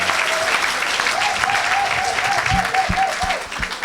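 A church congregation claps and cheers loudly in sustained applause, with a voice calling out over the crowd and a few heavy thumps near the end.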